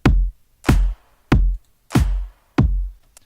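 Five deep, boomy kick drum hits play in a steady rhythm, each with a heavy low thump and short decay.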